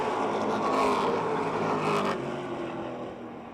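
Stock cars in the Charger division roaring around Motordrome Speedway, a loud dense engine drone that swells briefly as cars pass close, then eases slightly toward the end.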